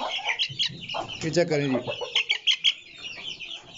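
Aseel hens at close range giving short, uneven clucks in quick bursts, with someone talking over them.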